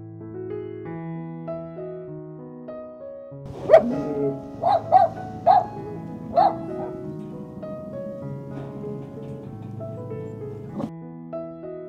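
Dogs on a new bed lined with a warm baby blanket give a few short yips and whimpers over a background of music, with a burst of several quick barks in the middle of the clip.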